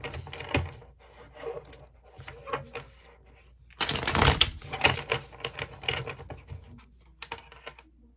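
Tarot cards shuffled by hand in an irregular series of soft riffles, taps and scrapes, with a louder flurry in the middle, close and fairly quiet, with no speech.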